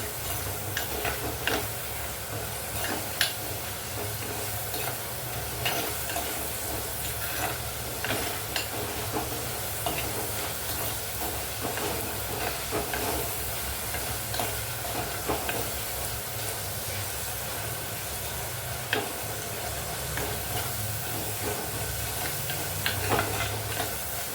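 Onions and garlic frying in a pan for rasam, a dense continuous sizzle with occasional light ticks and clicks of stirring, no voices.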